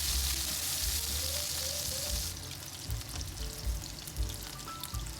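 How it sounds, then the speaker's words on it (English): Green onion, ginger and garlic sauté in hot oil in a pan, giving a steady close sizzle with light stirring and crackles throughout. "In a pan, leave some oil and saute the green onion,"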